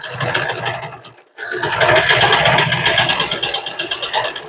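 Domestic sewing machine stitching a rope rug with zigzag stitch, a fast loud rhythmic mechanical whirr that stops briefly and then restarts at steady speed, close by.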